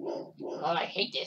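A protection dog whimpers and yips in the background, its cries mixing with a nearby voice speaking over it through the short stretch.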